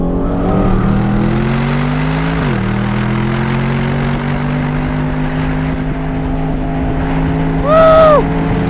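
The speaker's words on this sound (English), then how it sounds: "656 horsepower Aston Martin Vantage" A 2025 Aston Martin Vantage with a 656 hp V8 accelerates hard on a track, its engine note climbing steadily through the gears, loud and close, with a brief upshift dip and a squealing tire-like sweep near the end.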